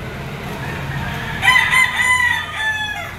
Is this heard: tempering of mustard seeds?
no